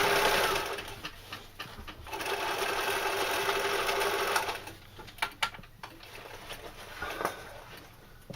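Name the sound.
sewing machine doing extra stitching on a knife carrier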